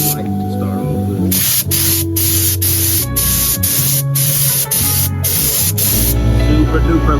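Spray gun applying light coats of paint to masked Rotiform wheels, a steady hissing spray in bursts with brief pauses between passes, close and loud, with some talk over it.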